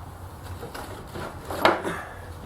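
A wooden drawer at the bottom of a flip-top tool stand slides and bumps shut with a short knock, faint rubbing before it, in a quiet room.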